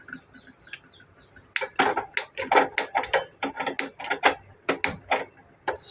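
A gas stove is switched on with a burst of sharp, rapid clicks and ratcheting knob sounds, close and fairly loud, following a few softer taps.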